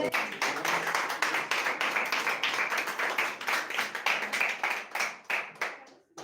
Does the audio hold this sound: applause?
yes